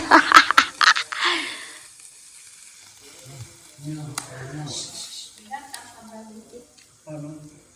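Beef grilling at a Tai Khün food day in Kengtung crackles and sizzles loudly in a dense burst at the start, then fades as voices speak over quieter cooking sounds.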